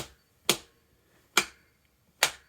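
Three sharp, isolated hand claps spaced a little under a second apart in a small home recording room beside a radiator, each leaving a short, ringing metallic tail of reverberation before silence.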